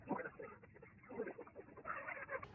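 A white Leghorn hen clucks and murmurs softly in short, irregular bursts, fairly close, with low background rustle.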